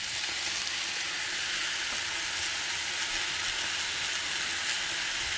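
Masala for a Goan-style button mushroom curry sizzles in a pan with a steady, even hiss of frying that holds close and unbroken throughout.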